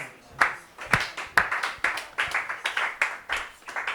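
A church congregation at an Easter service claps in steady rhythm to acclaim the Lord. The sharp, close claps fall about twice a second, with faint voices underneath.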